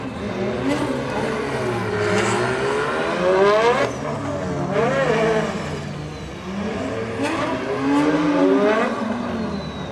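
A drift car at a Chicago drift practice session revs hard and repeatedly, its engine pitch sweeping up and down in loud bursts with tire noise, close and without talk.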